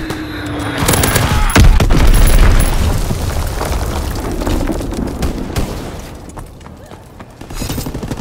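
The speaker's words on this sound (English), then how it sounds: "Dropping Azon bomb." Azon bomb dropping and exploding in Call of Duty: WWII, with a loud, sharp blast early on that rolls into sustained rumbling and scattered gunfire, fading slowly before more crackling toward the end.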